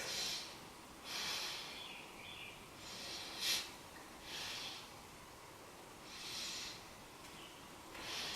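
A person doing a beginner yoga pose for tight hips takes slow, deep breaths, heard as about seven soft, evenly spaced breathy exhalations in a quiet room, with no talking.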